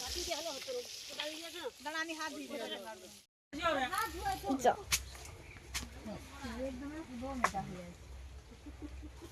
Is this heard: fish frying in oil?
yes